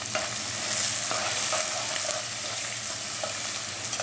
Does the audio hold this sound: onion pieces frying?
yes